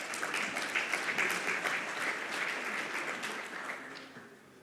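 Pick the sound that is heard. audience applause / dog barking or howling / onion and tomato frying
audience applause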